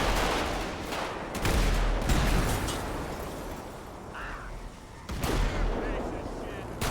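Bursts of gunfire fill a video game firefight, with dense, loud volleys and brief gaps while players call out to each other over the shooting.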